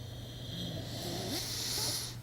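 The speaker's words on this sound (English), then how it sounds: "And we go back to the Ujjayi breath" Slow nasal Ujjayi exhale during a yoga session, a steady breathy, snore-like rasp lasting about two seconds, close and fairly quiet with no talking over it.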